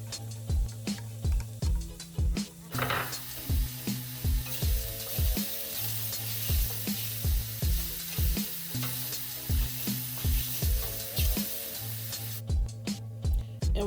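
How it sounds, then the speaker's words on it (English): Shrimp sizzling in a pan over medium-high heat, a constant close fry hiss running under a regular pulsing musical beat that carries on through the whole stretch. "in the other pan, we're going to add shrimp. On medium to high heat."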